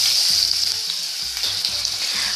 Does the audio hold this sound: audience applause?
no